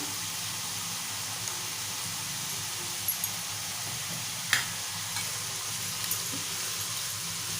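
Soaked chana dal with salt is stirred in a pan over a constant close sizzle, with a few light scrapes and taps of the spoon against the pan.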